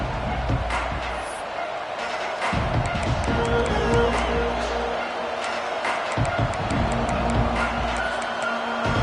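Football stadium crowd at a college season opener cheering and roaring steadily, a broad continuous wash of noise with scattered claps and shouts throughout, loud and sustained beneath a faint commentator's voice.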